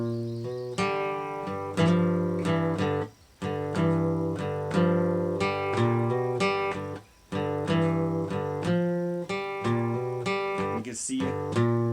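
Acoustic guitar in open G tuning plays a strummed bar chord with added finger extensions. The notes ring out in a steady rhythmic pattern with a couple of brief pauses, played close and loud, with no voice over it.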